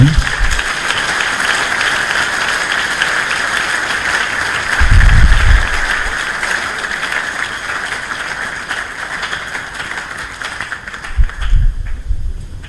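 University audience in Kinshasa giving sustained applause for a visiting writer, dense continuous clapping with a few louder thumps and swells.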